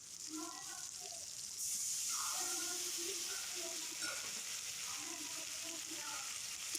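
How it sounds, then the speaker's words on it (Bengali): Chopped tomato and a ground spice paste fry in oil for a Bengali fish and potato curry, giving a steady sizzle that swells into a louder hiss partway through, under a voice speaking over the pan. "টমেটোটাও তেলের মধ্যে ভালো করে নাড়াচাড়া করে নেব আর দিয়ে দেব বেটে রাখা"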